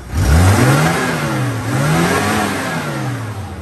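A Zebra pickup truck engine revs up loudly, the pitch rising and falling in a couple of surges before settling into a steady rumble, close by.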